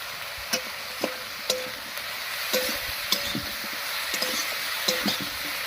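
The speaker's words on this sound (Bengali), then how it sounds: "খুব ভালো করে মিশিয়ে বেশ কিছুক্ষণ রান্না হতে দেবো" Rui fish curry stirred in a pan with turmeric and salt, a steady close sizzle of frying under repeated scraping stirs and sharp utensil knocks at irregular intervals.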